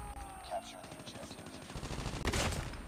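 Rapid bursts of Type 25 assault rifle fire, shot from the hip in Call of Duty Mobile, crackle fairly faintly in a dense, busy game mix that grows louder toward the end.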